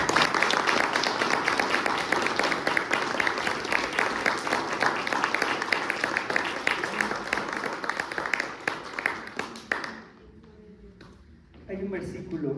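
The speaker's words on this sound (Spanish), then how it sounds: "Dale un fuerte aplauso." Loud, sustained applause from a church congregation fills the room, dense and continuous before cutting off abruptly near the end, with a voice speaking briefly afterward.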